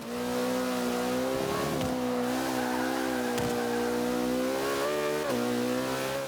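A McLaren P1 races around the Nürburgring in Forza 5, its engine a loud, sustained high-revving drone that rises and dips with gear changes, with faint tire squeal as the car slides through corners.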